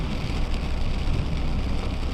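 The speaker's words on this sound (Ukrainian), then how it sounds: "Тут у нас падає дощик під австрійською границею." Steady rain falls on a vehicle driving on a motorway near the Austrian border, a dense continuous wash of noise mixed with road and engine rumble, with no talking.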